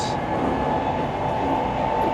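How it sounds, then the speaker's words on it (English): Inside a new, modern four-carriage train in Bangkok, a steady loud interior rumble and hum of the moving carriages, continuous and even, with a faint high whine at the very start and no talk. "It looks like it's a 4-carriage train. Very new, very modern."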